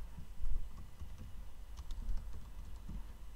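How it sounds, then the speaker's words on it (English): A book title being typed on a computer keyboard, with quick, irregular key clicks close to the microphone in a quiet room. No one speaks. "type in the title of the book"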